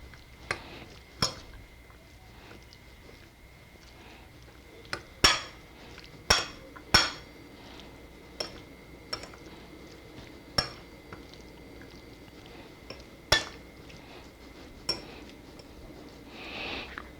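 Salmon tartare stirred with extra virgin olive oil in a bowl, marked by a dozen or so sharp, bright clinks of a utensil against the bowl at uneven intervals, close and clear over a quiet background.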